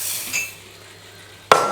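Rice tipped into a clean frying pan with sauce: a brief clink of pan and utensils near the start, then a sharp, loud metallic impact near the end, with no talking.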